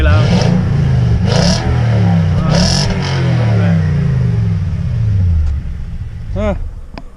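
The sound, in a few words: 2018 Toyota Tundra revving with Flowmaster Outlaw exhaust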